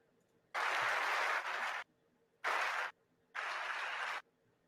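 An audience applauds during President Biden's speech in Canada. Three separate bursts of clapping come at even intervals, each lasting about a second, with near silence between them.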